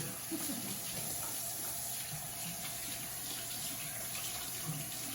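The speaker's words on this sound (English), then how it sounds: "I'm gonna wash my beefy hands real quick." Hands being washed under a steadily running kitchen tap, a continuous close splashing hiss that fills the clip, with faint clatter in the background.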